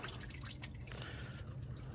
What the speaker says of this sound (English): There you can see the oil dripping.